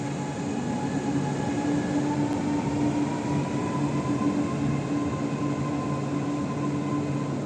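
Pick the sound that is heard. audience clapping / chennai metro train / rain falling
chennai metro train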